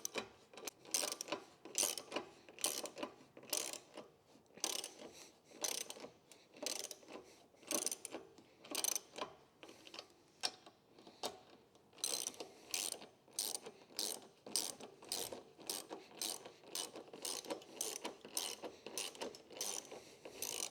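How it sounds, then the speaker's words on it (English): Bolts on Sherpa Crestone roof rack feet are tightened with a ratchet on the roof of a fifth-generation Toyota 4Runner. Quiet, fairly distant runs of quick ratcheting clicks follow one another steadily throughout. "we've just bolted the Sherpa down to the roof of the 4Runner"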